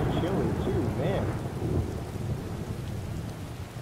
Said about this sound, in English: That's the climate of Tamriel mod with the super storm.